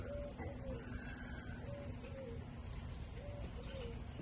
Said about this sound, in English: Can you all hear the mourning doves in the background?